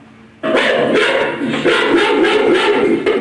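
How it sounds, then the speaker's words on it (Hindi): A dog barks repeatedly and loudly at close range, a steady run of sharp, overlapping woofs and yips that fills the whole stretch after a brief quiet start. "बार्किंग यानी कुत्ता भौंक रहा है"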